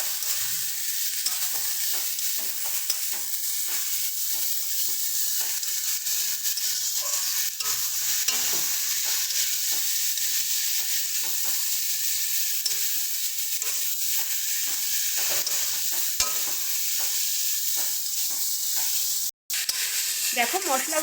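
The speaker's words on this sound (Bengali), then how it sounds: "সমস্তটা দিয়ে ভালো করে মিশিয়ে নেবে" Bottle gourd stems with turmeric and salt are stirred in a frying pan, a loud continuous sizzle with repeated spatula scrapes and clatter, close up for the whole stretch apart from one brief dropout near the end.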